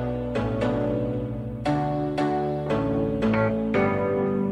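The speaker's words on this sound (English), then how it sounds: "I ended up adding these piano saw keys that are from the Wave pack on our site." Piano-and-saw synth keys from a Wave preset pack, set in an 80s pop and disco track, play sustained chords that change every half second or so, close and steady, with no voices.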